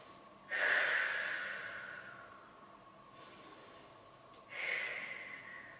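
Deep breathing during a yoga session for digestion: two long, audible exhalations, a stronger one near the start and another toward the end, with quieter breath between and no talking.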